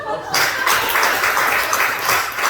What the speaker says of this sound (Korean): 박수 한번 치